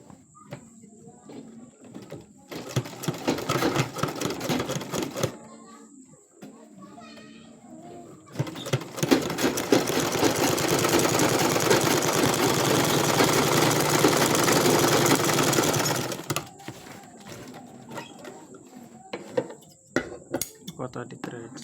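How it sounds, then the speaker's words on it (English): Sewing machine stitching the welt pocket of a pair of trousers, a close mechanical whir in two bursts, a short run and then a longer steady one, with quiet handling sounds between and around them. "I'll stitch on top"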